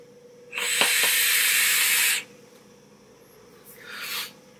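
Air drawn through a Recoil Rebel RDA vape atomizer makes a close, breathy hiss with a slight whistle, one sustained draw of about a second and a half followed by a shorter, softer pull.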